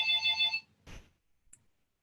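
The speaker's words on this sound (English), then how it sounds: "there's a phone ringing" A phone rings nearby during an online webinar: one short, bright electronic ringtone burst, followed by a soft knock and a faint click in otherwise quiet surroundings.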